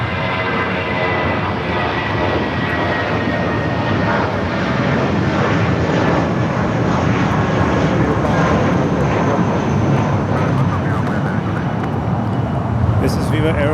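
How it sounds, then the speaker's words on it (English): A Viva Aerobus Airbus A320, eight years old, at Los Angeles airport produces a loud, sustained jet engine roar with a whining tonal hum layered over the broad rush, continuous throughout the stretch. "This is Viva Airbus Flight 511 going to Guadalajara. Airbus A320, 8 years old."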